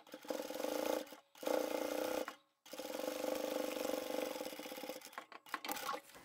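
A sewing machine stitches bag lining close to the edge in three steady, buzzing runs with brief pauses between them, close and clear with no talking.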